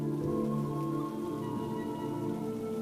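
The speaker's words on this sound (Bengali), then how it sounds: "চারদিকে তখন ঝুম বৃষ্টি হচ্ছে।" Heavy rain pours down steadily over the floating guava market in Barisal, a dense, unbroken hiss of drops on water and boats, loud and close with a low hum beneath.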